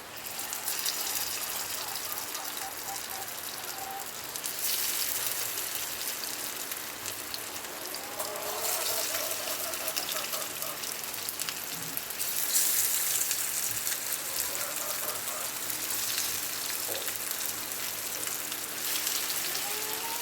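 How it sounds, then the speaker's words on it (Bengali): Fish kofta balls fry in hot oil over a medium flame, a loud, continuous, close bubbling sizzle that swells at moments as more balls go in, with no talking. "এবার আমি একটা একটা করে তেলের মধ্যে কুপ্তাগুলো দিয়ে দেবো।"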